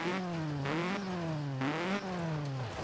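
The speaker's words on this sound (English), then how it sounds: "I'm going to do a little test of the exhaust" Ford Fiesta ST exhaust in Forza Horizon 4, revving in repeated rising and falling sweeps, loud and steady with no pops or bangs, alone without talk.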